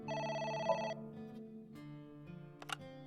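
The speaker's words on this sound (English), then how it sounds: "phone is ringing" Phone ringing in the video game AI: The Somnium Files, a bright electronic ring tone in an opening burst followed by softer tonal chimes and a couple of short clicks, fairly quiet and heard alone.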